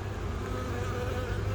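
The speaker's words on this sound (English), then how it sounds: "The old nurse bees have been out here doing orientation flights." Honey bees buzz around an outdoor hive during a wet dearth, a dense, steady drone of many wings close by with no pauses and no voices.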